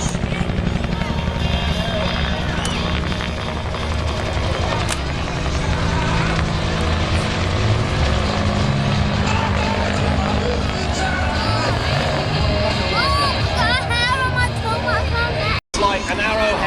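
Bell UH-1 Huey helicopter at an air show, a loud continuous rotor and engine drone running throughout with crowd noise and talk underneath.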